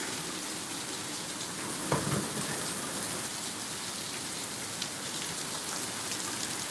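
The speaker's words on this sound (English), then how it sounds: "Rain's still pointing straight down." Steady heavy rain pouring straight down with no wind in North Weymouth, a constant dense hiss, with a couple of brief louder splashes, no voices.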